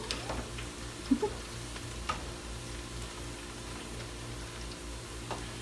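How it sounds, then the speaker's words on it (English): Purple sweet potato chips frying in a pot of oil while being stirred: a soft, steady sizzle runs throughout, broken by a few sharp clicks and knocks from the stirring utensil, with no talking. "You want to stir these things good so you don't get two of the potatoes sticking together."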